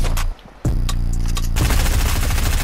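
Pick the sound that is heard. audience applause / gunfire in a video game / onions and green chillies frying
gunfire in a video game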